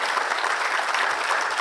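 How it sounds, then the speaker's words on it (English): Loud, dense audience applause at the 40th DBT Foundation Day celebration, a continuous wash of many hands clapping close by. "I think we deserve a good round of applause"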